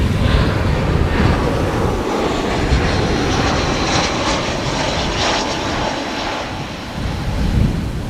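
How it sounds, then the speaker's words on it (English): A British Airways passenger jet arriving from London Heathrow, a steady loud engine roar with broadband rushing and light wind buffeting on the microphone, sustained and close throughout. "BA flight 434 from London Heathrow coming in"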